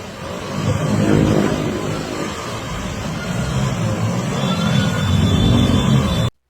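A tuk-tuk engine revs steadily and loudly while chasing a motorist in a road rage incident, droning close by for several seconds with no speech, then cutting off abruptly.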